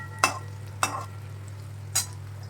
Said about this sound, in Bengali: একদম লাল লাল করে ভেজে নিয়েছি এবার এটাকে তুলে নেব